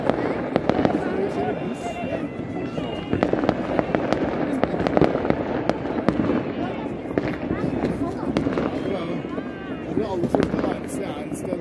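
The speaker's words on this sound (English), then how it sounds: "Nandito kami sa labas, manunood ng fireworks." Fireworks bursting outdoors during a New Year's celebration, a dense run of loud crackling and booming blasts close and far, with people talking and cheering underneath.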